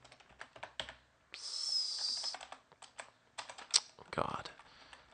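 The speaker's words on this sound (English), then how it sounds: "we need to type in, clear the screen and type in airmon-ng and type in the name of the newly created interface and press enter" Terminal commands typed on a computer keyboard: quick close key clicks in irregular bursts, with a sustained whining tone over part of it and a louder thump near the end.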